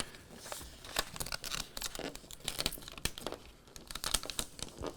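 Transfer tape peeled off the backing of a vinyl laptop decal: close, quiet, continuous crinkling and crackling with small sharp ticks, as the sticky sheet is pulled apart and handled.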